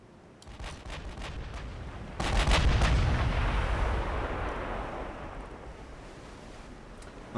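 Battleship naval guns fire in the video game Ultimate Admiral Dreadnoughts: a faint early shot, then a heavy booming salvo that rolls and slowly fades into a long rumbling tail.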